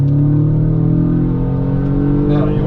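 An Audi Quattro lapping a race track at a Quattrofest session, its engine a loud, steady droning hum held at speed inside the cabin, with someone talking over it throughout.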